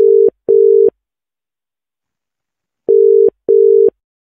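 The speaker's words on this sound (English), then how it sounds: "that's going to be my ringing file that's going to play instead" A steady electronic phone ringing tone sounds in two double bursts, each pair of short rings separated by a couple seconds of silence.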